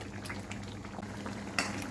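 Thick soya chunk gravy bubbling and plopping at a boil in a pan close by, with soft irregular pops.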